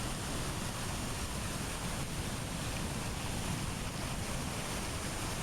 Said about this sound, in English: The waterfall at the mill was a thundering, indefatigable monstrosity.